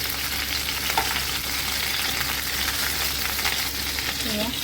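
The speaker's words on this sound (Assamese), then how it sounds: "মই প্ৰথমতে কাৰাকৈ ভাজি লৈছোঁ।" Broiler chicken pieces deep-frying until crisp in oil, a loud, constant close sizzle with occasional stirring.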